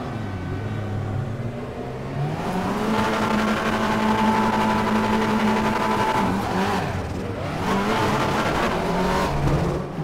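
Race cars in RaceRoom launch off the line at the start of the season's second race, engines revving and climbing in pitch together, a loud layered roar of multiple cars accelerating with no talk.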